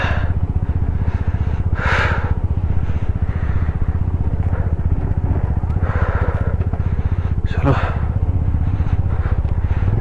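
Motorcycle engine running steadily on a mountain road to Ladakh, loud and continuous throughout with a constant low rumble, while people talk over it.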